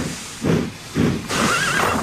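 A horse whinnies in a quick rising-and-falling call, preceded by a couple of soft huffing breaths, close and fairly loud.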